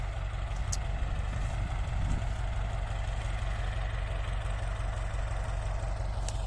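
A tractor's diesel engine rumbles steadily nearby at a cassava harvest, a continuous low idling drone with no pauses.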